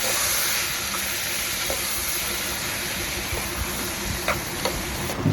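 Mixed vegetables sizzle steadily in hot oil while being stirred for pulav rice, a constant bright hiss with occasional soft clicks of a spoon against the pan.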